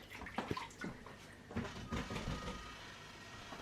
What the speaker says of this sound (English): I'm going to wash my hands so I don't transfer